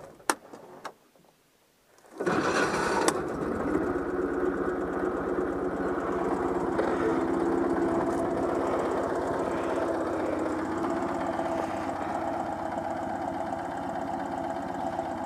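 A Citroën 2CV with a suspected fault starts after a quiet moment, catching with a burst and then settling into a steady, loud idle that runs on continuously with no talk.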